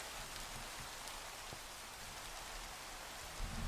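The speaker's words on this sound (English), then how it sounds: "I wanted to stop the rain." Steady rain falls in Minecraft as a dense, even hiss that continues the whole time. It stays fairly quiet, with no voices.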